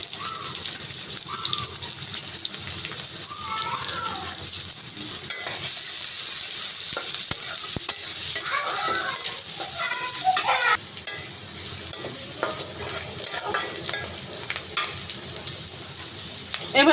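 Chopped onion, green chili and two bay leaves fry in hot oil for a taro-stem vegetarian dish, a continuous close sizzle with stirring scrapes and faint background voices throughout.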